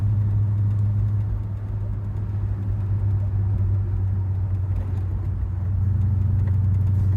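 A restomodded 1952 Chevy 3100 pickup's 350 V8 with Ram Jet fuel injection idles steadily up close, a deep, even rumble with no one speaking.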